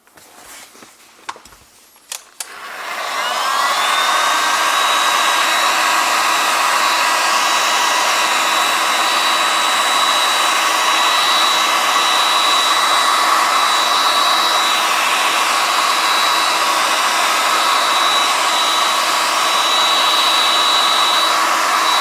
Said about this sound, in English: what generates hot air, and using this device we dry this our filter